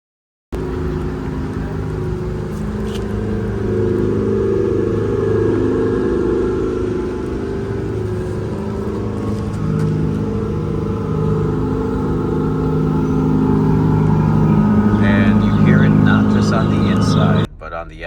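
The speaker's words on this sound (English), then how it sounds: "It doesn't sound like a full V8. You just get a bit of rumble and a bit of gravitas in this driving experience." A 2025 Mercedes G580e electric SUV on the move, its synthetic engine sound giving a steady low rumble and hum that holds at an even level throughout, with a slight rise near the end.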